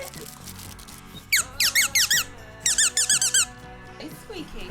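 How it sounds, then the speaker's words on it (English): A rubber cookie-shaped dog toy squeaks in two quick bursts of four or five sharp, high-pitched squeaks, up close over a steady background hum, with talk around it. "It's squeaky. That is high pitch."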